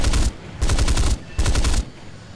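Aircraft cannon fire in the War Thunder air-combat game, heard as three loud, rapid machine-gun bursts in close succession, each lasting about half a second, with brief pauses between them.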